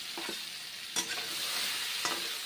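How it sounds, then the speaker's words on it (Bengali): Pointed gourd (potol) pieces frying in hot oil, a constant soft sizzle broken by a few sharp stirring scrapes and clinks; no voices. "পটল ভেজে নিচ্ছি এভাবে।"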